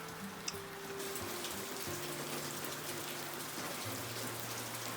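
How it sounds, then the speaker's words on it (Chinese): Heavy rain pattering outside a courtyard house, a soft, steady wash of drops heard from indoors, fairly faint and continuous, with a low hum in the room and no talking. "一边听着哗啦啦的雨声"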